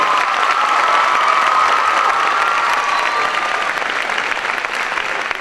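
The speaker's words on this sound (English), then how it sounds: "Please give me a massive round of applause for Glasgow to the fantastic Mr. Luke Evans!" A big crowd at MCM Scotland Comic Con in Glasgow roars with loud, sustained applause and cheering for actor Luke Evans, a thick continuous wall of clapping with shouts and a whistle near the start.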